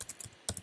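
Keys on a computer keyboard are tapped in a quick burst, a few crisp clicks, a short pause, then another cluster of keystrokes, close and fairly quiet with no voices.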